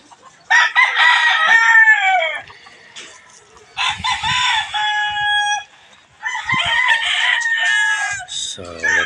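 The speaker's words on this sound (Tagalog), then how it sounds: "Yung mga manok dito guys." Chickens and a rooster on a farm, with repeated loud, close crowing calls in three long bursts and clucking between them.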